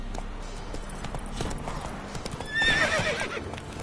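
Geralt's horse Roach in The Witcher 3 clops to a halt on hooves, then lets out a loud whinnying neigh near the end, close and clear over faint ambient noise.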